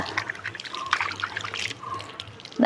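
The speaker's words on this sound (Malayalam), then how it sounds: "ഇതൊന്ന് ഇച്ചിരി വെള്ളം ഒഴിച്ചിട്ട് ഒന്ന് കഴുകുന്നുണ്ട്" Water poured over a soap-washed, greasy vessel to rinse it, trickling and splashing in short uneven bursts at close range, fairly quiet.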